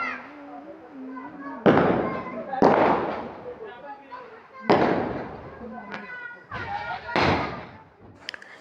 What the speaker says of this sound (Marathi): या दिवाळीला आम्ही खूप फटाके फोडलो